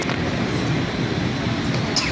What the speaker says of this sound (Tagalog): Ayan, sumakay kami sa train.